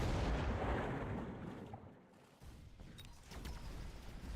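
A missile strike in a video game lands as a loud, deep boom that rolls and fades over a couple of seconds, followed by lighter crackling debris and rumble, with no talking.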